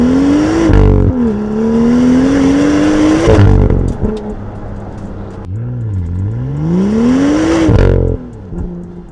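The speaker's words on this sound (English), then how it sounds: "Quick test of the stock exhaust sound in sport mode from a dig" BMW M2 F87 with stock exhaust in sport mode launching from a standstill, engine revving hard through rising pulls with sharp gear-change breaks, loud and close, then easing off near the end.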